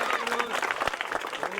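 A crowd applauds at an award ceremony with a brief burst of dense, steady clapping under a loud voice speaking over it.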